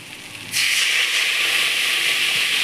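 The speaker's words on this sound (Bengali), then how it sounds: "অল্প পরিমাণ আমি নারকেলের দুধ ঢেলে দিলাম" Coconut milk hits sizzling masala for a giant prawn malai curry, setting off a sudden loud, steady hiss of steam after a brief quiet start, then holding evenly.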